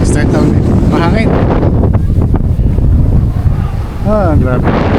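Strong wind buffeting the microphone in a steady roar on the Diamond Head hike in Hawaii, with people talking over it.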